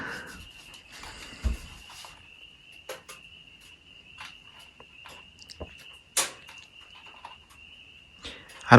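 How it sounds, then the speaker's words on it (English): Night chorus of frogs and insects with a steady high-pitched trill running throughout, faint and distant, broken by occasional nearby clicks, knocks and rustles, no talking. "the frogs are really singing tonight"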